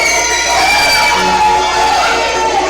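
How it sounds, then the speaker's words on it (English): Wrestling event crowd cheering and shouting steadily throughout, a dense roar of many voices with whoops rising over a continuous background hum. "As you can hear the crowd"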